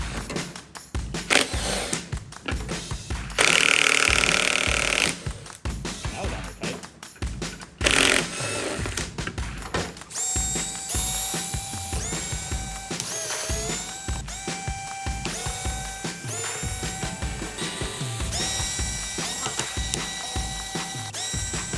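Mechanical ratcheting and clicking of hand tools working on a stock RC car capable of 100 mph, with bursts of tool noise, a louder rasping stretch, then steady clicks and whirring continuing throughout, no talk.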